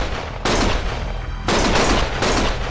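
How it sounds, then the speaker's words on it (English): Rapid gunfire from the game Lost Judgment comes in three loud sustained bursts of dense automatic shots, separated by brief lulls filled with lower rumble. "Stop shooting!"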